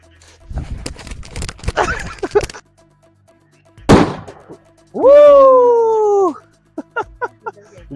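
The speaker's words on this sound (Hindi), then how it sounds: "ये इतना छोटा बम था लेकिन फिर भी काफी बड़ा धमाका।" A mini aloo bomb firecracker set off outdoors during Diwali goes off in one sharp, loud bang after a stretch of people talking, followed by a sustained tone and a few short pops.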